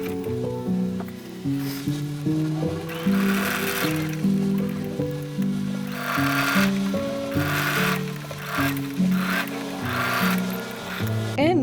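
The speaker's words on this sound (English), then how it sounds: "I'm just going to stitch it once again" A sewing machine stitches a fabric kids' bib, its motor humming up and down in speed with bursts of rapid needle clatter, close and fairly loud.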